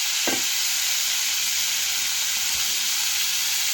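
Drained, previously soaked potatoes dropped into a hot pan, a loud continuous sizzle and hiss with a brief clatter at the start.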